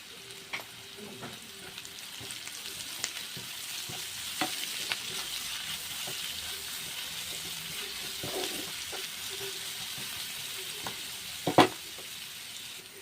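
Salted onions fry in a pan with a steady, even sizzle, close and moderately loud, punctuated by occasional clicks and knocks of a utensil; no one speaks.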